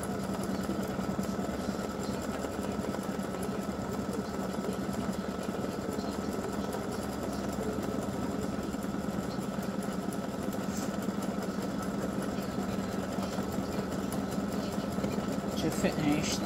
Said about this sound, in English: now we're ready to stitch color stop number 4, the last color stop. And it's just going to do a satin stitch